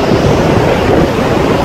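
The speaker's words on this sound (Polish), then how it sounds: "mega wieje." Strong wind buffets the microphone on the coast near Chintsa and East London in South Africa, a loud, steady roaring rush with surf-like noise and no talk.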